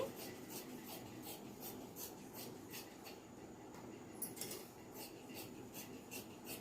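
Scissors cut through saree blouse fabric in a steady series of soft rasping snips, close and fairly quiet, with no talking.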